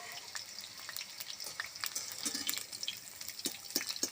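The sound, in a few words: frying fig and pointed gourd in oil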